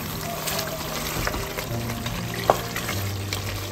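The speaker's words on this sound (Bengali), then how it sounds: "এই যে আমার মাংসটা ভালো করে কষাই আসছে, এটা আমার চিকেনটা খুব ভালোভাবে কষানো হয়ে গেছে।" Free-range chicken curry meat being sautéed in a pan, a steady close sizzle and frying crackle with a brief clink of a utensil near the middle, no talking.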